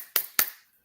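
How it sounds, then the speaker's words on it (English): Two sharp, bright claps about a quarter second apart, close and fairly loud, each with a short decay, then silence. "clapping"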